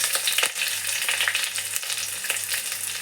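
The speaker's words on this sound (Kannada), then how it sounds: "ಇವಾಗ ನಾನು ಫಸ್ಟಿಗೆ ನಾನಿಲ್ಲಿ ಕರಿಬೇವಿನ ಸೊಪ್ಪನ್ನ ಹಾಕ್ತಾಯಿದ್ದೀನಿ. ಈರುಳ್ಳಿ ಹಾಕ್ತಾಯಿದ್ದೀನಿ." Curry leaves and onion frying in a pan for crab sukka, a close, steady sizzling crackle with occasional stirring scrapes, no voices.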